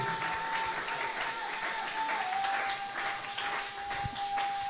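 Continuous dense applause mixed with cheering from a congregation welcoming a pastor at a church dedication and inauguration, steady and fairly distant, with a faint sustained tone running through it.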